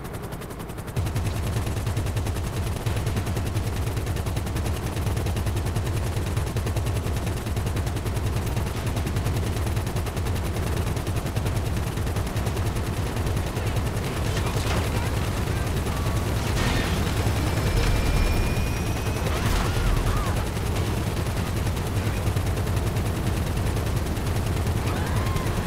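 Gunfire in Grand Theft Auto V, with rapid bursts of automatic shots and heavier booming blasts over a constant loud mechanical roar, continuing densely for the whole stretch.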